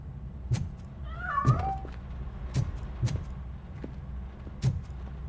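A cat meows inside a building in the video game RoboCop: Rogue City, a short plaintive cry over a low steady background hum, with several soft thuds recurring at regular intervals.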